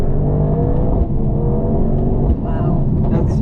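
A 2024 Mercedes-AMG GT55 coupe accelerating with a steady, close engine drone from inside the cabin, briefly dipping as it shifts into second gear around 45.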